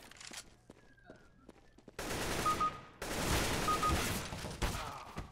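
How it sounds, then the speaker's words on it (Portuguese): Gunfire in the video game CS:GO: rapid bursts of shots in close succession, loud and crackly, with fainter footsteps and quieter game ambience before them. "Ele deu dois tiros"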